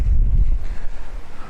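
Wind blows hard into the microphone during a power outage, low rumbling gusts strongest at first and then easing to lighter buffeting.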